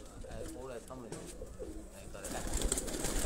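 Pigeons cooing in soft, rolling murmurs nearby, repeated over a few seconds, with a voice speaking at the same time and a rising hiss of background noise toward the end.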